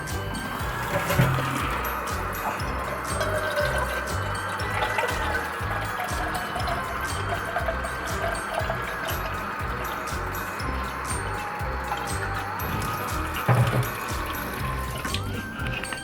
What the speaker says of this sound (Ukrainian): Тому зараз наберемо води, наберемо води.